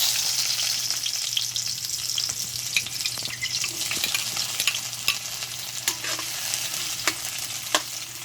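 Dried fish (tuyo) sizzles and crackles in a frying pan, a steady close-up hiss with scattered sharp pops and faint stirring.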